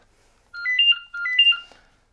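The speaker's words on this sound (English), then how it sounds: "Phone going. Phone." A telephone in a vintage and old toy shop in Leicester gives two electronic warbling rings in quick succession, clear and fairly close in an otherwise quiet room.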